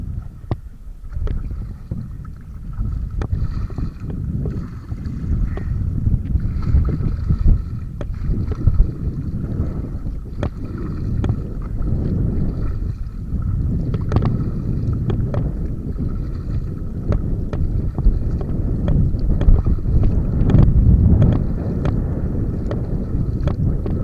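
Wind on the River Clyde during a sea kayak outing in a 14 ft Dagger Charleston: a steady, low, rumbling buffeting that lasts the whole stretch, with light paddle and water sounds mixed in.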